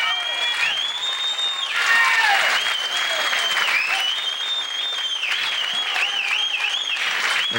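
Sustained applause from the audience at a 1992 U.S. Open 9-ball pool championship final, a steady dense clatter of many hands that swells briefly, with whistles and shouts threaded through it.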